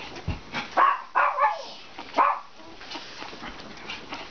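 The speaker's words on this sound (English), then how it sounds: "she's a little squeaker when she eats" A young bulldog-type puppy squeaks and whimpers while bottle feeding, giving a few short, high, thin squeaks and yips close by, with soft sucking sounds between them and no talking.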